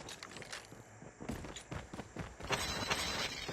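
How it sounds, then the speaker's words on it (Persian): Footsteps in a Call of Duty battle royale match, soft rapid steps mixed with game ambience, faint and somewhat distant, with no talking. "من صدا پا میگیرم"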